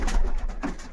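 Pigeons in a loft coo close by in short throaty bursts, two soft calls within a second over a low background hum.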